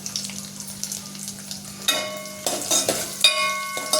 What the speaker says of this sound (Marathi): आता आपण याच्यात हे काजू, बदाम, मनुके हे थोडंसं तुपात गरम करू